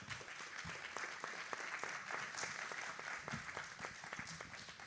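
Audience applauding the candidates at a special-election candidate forum in a chapel, a full steady wash of many hands clapping, fairly distant and soft but sustained throughout.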